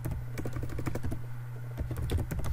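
Rapid keystrokes on a computer keyboard while a web page is coded, fairly close and continuous, with irregular clicks over a low steady hum.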